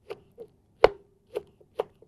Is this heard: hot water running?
no